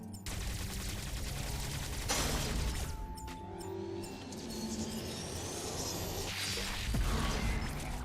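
Omega Cannon firing the Omega Stream in Metroid Dread: a loud, sustained burst of heavy gunfire-like blasts with whooshing energy surges, continuous and dense from start to finish, peaking again near the end.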